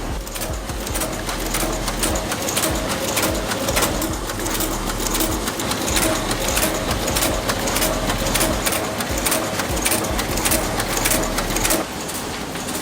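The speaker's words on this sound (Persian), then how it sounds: "تا صحبت من هنوز تموم نشده اینجا 300 تا سربرگ رو چاپ میکنم تو سایز آچار و بهت تحویل میدم" A printer runs off 300 A4 letterheads on 80 gsm bond paper, a loud continuous mechanical whir with rapid rhythmic clatter that stays steady for about twelve seconds before easing slightly.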